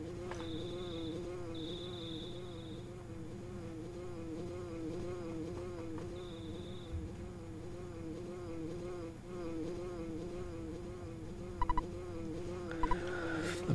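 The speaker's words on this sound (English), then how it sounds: "Ness, do you hear a buzzing that sounds like a bee flying around?" A steady bee-like buzzing drones on throughout an SNES game, with brief higher electronic tones and a couple of faint clicks near the end.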